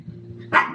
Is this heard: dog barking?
yes